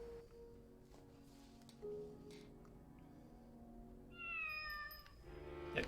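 A cat meows in the video game Deemo Reborn, faint drawn-out meows over steady game music, with a higher, brighter call rising near the end, no speech.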